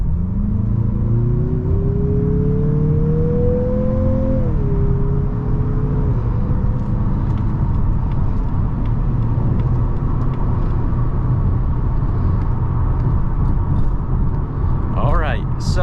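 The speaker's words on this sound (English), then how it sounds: "Let's go ahead and put this SUV in sport mode and merge on the highway." A 2022 Mazda CX-50 SUV in sport mode accelerates hard onto a highway, its engine note climbing steadily through a gear change over loud road and tyre rumble that continues as the cabin drone evens out.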